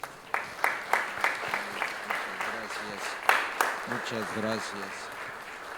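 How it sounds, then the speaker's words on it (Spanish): At a Catholic Mass honoring San Rafael Guízar Valencia, the congregation applauds a priest with a brief round of clapping whose accented beats fade as a voice begins speaking over the tail. "Le damos los presentes un fuerte aplauso al Padre Rafael González"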